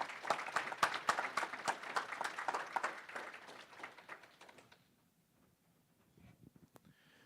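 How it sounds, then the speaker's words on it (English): Applause from an audience honoring conference panelists at a live event: dense, steady clapping for several seconds that thins out and fades to near quiet, with a few scattered claps after. "Let's give them another round of applause."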